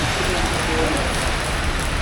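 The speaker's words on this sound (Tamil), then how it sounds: "செம்மையாக பெய்யுது மழை" Heavy rain pouring down during a bus trip from Kerala to Chennai, a dense, even hiss of downpour with no gaps, loud and close, with a voice faintly under it.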